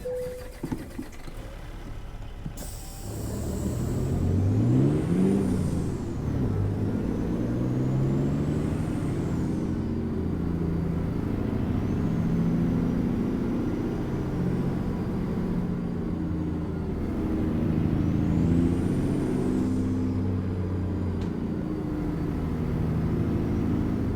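A truck engine idles and runs in American Truck Simulator, a steady low rumble that fills the whole stretch, with a brief hiss near the start and faint tonal sweeps above it. No one speaks.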